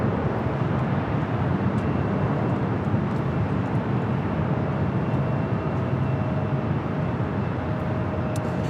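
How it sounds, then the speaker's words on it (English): An Alaska Airlines Boeing 737 MAX 8 takes off from LAX bound for Seattle, producing a steady, broad jet roar at moderate distance that holds constant throughout. "This is Alaska Airlines 1305 taking off to Seattle on the MAX 8"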